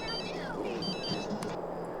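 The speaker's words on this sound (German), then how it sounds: "Telefon." A telephone rings in The Sims 3 with a bright, electronic ringtone of repeating tonal chirps over faint background game sounds, lasting about two seconds.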